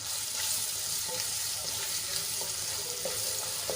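Finely chopped onions fry with gram flour in a hot pan, giving a steady, close sizzling hiss that runs unbroken throughout, with faint stirring clicks.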